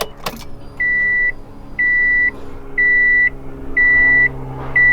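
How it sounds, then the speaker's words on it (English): Steady electronic tones pulse five times at regular one-second intervals over a low idle hum inside a Subaru WRX while a newly installed fuel pump primes, the pump itself buzzing quietly beneath the repeating beeps. "I'm going to go ahead and prime it a couple times."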